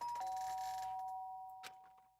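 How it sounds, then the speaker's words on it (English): A Danganronpa video game doorbell chimes as two sustained electronic tones, one held note sliding into a second, ringing clearly and then fading slowly over a soft background hum. "the sound of the doorbell forced its way into my room"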